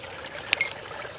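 Creek water flows near the ruins of the 1800s Piedmont Springs Hotel, a soft steady trickle with one brief sharp click partway through.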